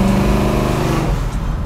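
A brand new 496 V8 crate engine in a classic muscle car rumbles loudly up close, a deep steady throb with a slight rise and settle, no voices.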